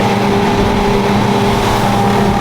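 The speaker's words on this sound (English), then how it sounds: "even out back here with these new 300 Yamahas, it's not too terribly loud out here" Twin Yamaha 300 outboard engines run on a Quarken 35 boat during a sea trial, a loud, steady droning hum heard close up from the back of the boat, with no voices over it.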